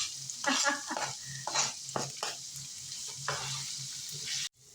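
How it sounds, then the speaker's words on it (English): Steady sizzling of onions frying in a pan with sauce and meat, with intermittent stirring scrapes over the hiss before it cuts off abruptly. "And you can hear it sizzle."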